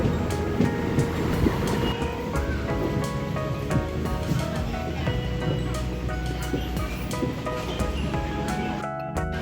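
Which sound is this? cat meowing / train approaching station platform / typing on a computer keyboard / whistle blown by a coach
train approaching station platform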